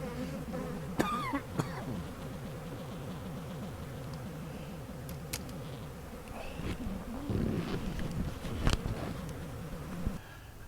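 Bees buzz around hives in an apiary yard, a continuous low droning hum with occasional closer passes and a few knocks and clicks.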